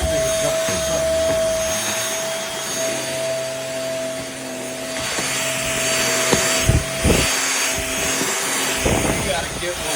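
A cordless MBYULO 450W stick vacuum runs steadily with a constant motor whine and airflow rush, with a few short bumps and knocks near the end as it works across a surface.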